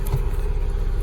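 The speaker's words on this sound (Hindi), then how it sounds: "गाड़ी स्टार्ट करो पहले, फिर मैं बैठूंगी।" A car engine runs steadily at a low, even rumble close by, with no clear start-up crank audible, no voices in the clip.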